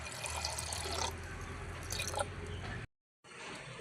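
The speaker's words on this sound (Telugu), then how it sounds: "కాసిన నీళ్ళు పోసుకుంటాను." Water poured into a pot of soaked lentils gives a steady, close splashing rush for nearly three seconds, then cuts to a brief silence before a softer trickle resumes.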